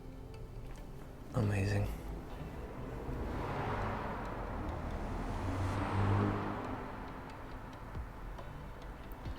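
Right turn signal on an Aprilia RS457 motorcycle ticking in a steady rhythm close by, with a person speaking briefly over it.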